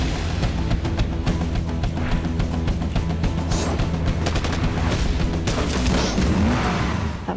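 AK-47 gunfire in an action movie trailer, loud and continuous bursts of rapid shots mixed with booms and a revving car engine under dense music, with no speech.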